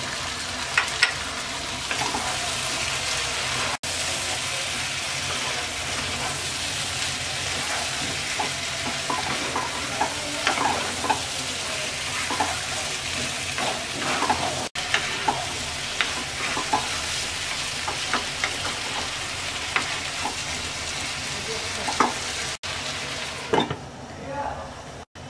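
Potato and eggplant pieces sizzle steadily in hot oil with spices, the base for a hilsa fish curry, a continuous close fry with occasional stirring scrapes of a spoon against the pan throughout.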